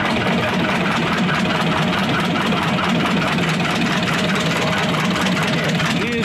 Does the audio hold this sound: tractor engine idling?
yes